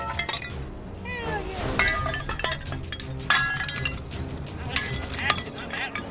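Porcelain toilet being smashed in a homemade rage room, a dense run of crashing, clinking and shattering impacts with ringing fragments, loud and close throughout.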